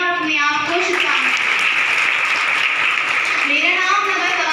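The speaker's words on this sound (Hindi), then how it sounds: "आज हम खुद को इस अवसर पर एक बार बहुत जोर से ताली बजाएं" A school audience at a Women's Day event applauds loudly and steadily, dense clapping filling the whole stretch with a few voices and cheers mixed in near the start and end.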